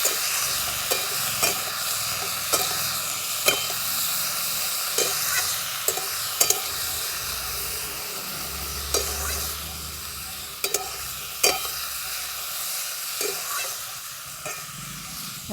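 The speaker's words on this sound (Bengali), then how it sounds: "পরিমাণ মতো নুন সামান্য একটু হলুদের গুঁড়ো সব কিছু দিয়ে আমি ভালো করে নেড়ে নিচ্ছি" A spoon stirs green chillies, salt and turmeric in a hot pan, scraping and tapping at irregular intervals over a continuous close sizzle, with no talking.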